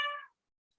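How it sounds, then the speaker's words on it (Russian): A single short cat meow in an indoor room, clear and close, fading out within a third of a second into silence. "Кошка зашла."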